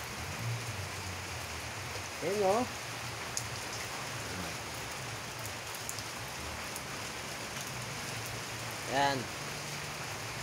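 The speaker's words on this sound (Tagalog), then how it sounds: "Yay! Umuulan. Hindi na kami magdidilig." Steady rain falls in a garden as a dense, even hiss that continues throughout, and a person speaks briefly over the downpour now and then.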